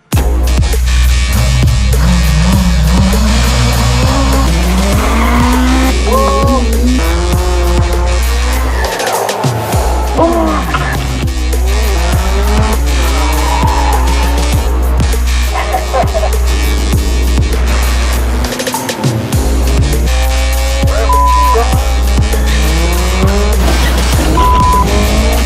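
A rallycross race car on track, engine revving hard through repeated gear changes while tires squeal and skid in long screeching runs, loud and close for the whole stretch with brief cuts in the engine drone.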